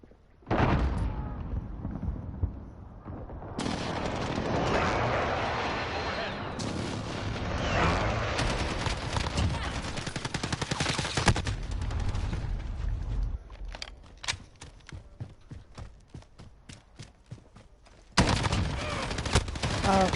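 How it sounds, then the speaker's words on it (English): An enemy precision airstrike in the shooter game Modern Warfare: loud bursts of heavy explosions and rapid gunfire roll in waves, dropping to scattered cracks before another blast returns near the end. "Enemy precision airstrike."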